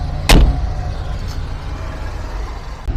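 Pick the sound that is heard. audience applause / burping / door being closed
door being closed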